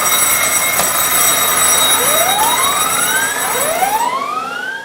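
Ship's abandon-ship alarm sounding aboard a vessel, a loud continuous tone with rising siren sweeps layered over steady background noise, close and dominant, no voices.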